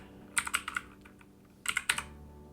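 Computer keyboard typing in two short bursts of quick, crisp keystrokes with a pause between them, close and clear, with no talking.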